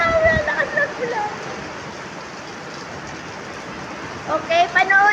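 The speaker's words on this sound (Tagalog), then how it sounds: "Grabe, ang lakas ng ulan." Heavy rain pouring down outdoors, a steady broadband hiss of dense drops with someone talking over it at the start and end.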